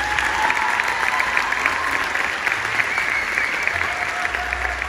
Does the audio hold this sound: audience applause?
yes